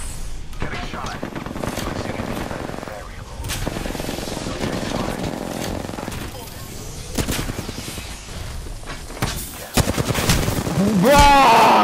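Gunfire in the Apex Legends video game crackles in repeated bursts and rapid automatic volleys, loud and close, with a few sharp louder shots near the end, mixed with game effects and a faint voice.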